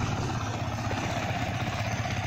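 A freshly rebuilt Yamaha Vixion motorcycle engine idles with a low, even, rapid putter, close by and steady, with no talking.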